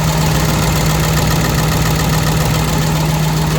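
A 2005 International truck's 7.3 Power Stroke T444E diesel, 195 horsepower, idles close and loud with a steady, low droning hum and a faint knocking texture that stays unbroken throughout.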